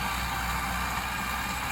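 Tractor engine running in a field, a steady low mechanical rumble with broadband hiss, close and unbroken for a brief stretch with no voices.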